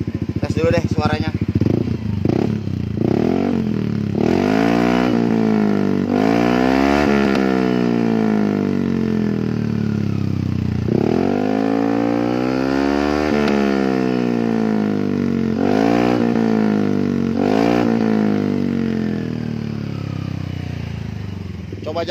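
Yamaha Aerox scooter fitted with a stainless steel SKR racing exhaust revs loudly and up close, with repeated throttle blips rising and falling, and someone talks over the engine.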